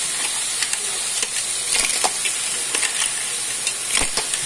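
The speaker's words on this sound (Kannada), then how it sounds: "ಈಗ ನಾವು ತಗೊಂಡಿರುವಂಥ ಎಲ್ಲ ಮರುವಾಯಿ ಮೀನು ಶೆಲ್ ಫಿಶನ್ನು ಇಲ್ಲಿ ಆ್ಯಡ್ ಮಾಡುವ." Clams (shellfish) dropped into hot tempering oil for a coastal Tulu-style sukka, giving a steady loud sizzle and hiss with sharp crackles and pops scattered throughout.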